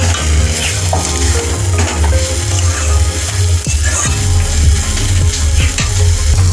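Eggs sizzling in a hot pan of oil for an egg curry, a steady loud frying crackle with occasional light clinks of stirring.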